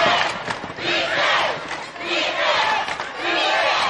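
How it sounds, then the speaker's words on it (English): Home crowd backing Ribault chants "defense" in rhythmic swells at a 2013 Florida Class 4A girls basketball semifinal, a loud gym full of voices rising and falling in repeated waves. "Chant of defense from the pro Ribault crowd."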